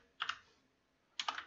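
A few quiet keystrokes on a computer keyboard, coming in two quick clusters about a second apart in an otherwise silent room.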